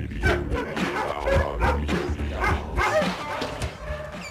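Dogs bark and yip in the kennel block at Battersea Cats and Dogs Home, London, a dense run of overlapping barks and whimpers echoing close by throughout, with no talk heard.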